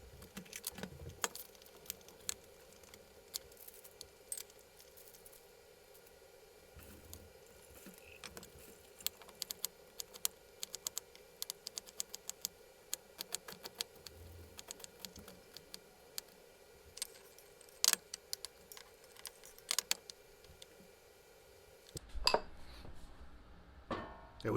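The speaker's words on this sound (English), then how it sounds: "I'm going to get started chopping some vegetables" A knife chops an onion for a Texas-style Guinness beer chili, sped up: faint, rapid taps come in uneven bursts over a quiet hum, then briefly give way to a different, louder background near the end.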